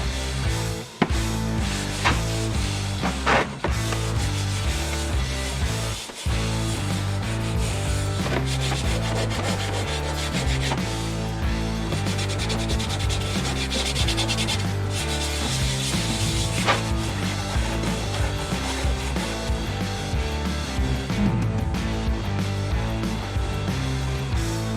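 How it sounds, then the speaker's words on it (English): A Scotch-Brite pad scrubs the body of a 1965 Chevy Bel Air before painting, a continuous loud, close rasping rub with quick back-and-forth strokes and a couple of short pauses. "just giving it a little cleaning with the Scotch-Brite"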